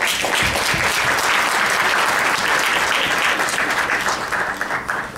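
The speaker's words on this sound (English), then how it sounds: "Let's give everyone a round of applause tonight." An audience bursts into sustained, loud applause after a spoken-word performance, dense clapping filling the room nearly alone before tapering slightly at the end.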